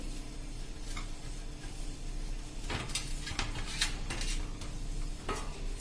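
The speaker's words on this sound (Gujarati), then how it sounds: "હલાવીને ગરમ થવા દેશું।" Ghee heats in a pan for sakar ni sukhdi while a spoon stirs it, giving scattered scraping and clinking strokes over a soft, steady sizzle, close and with no one talking.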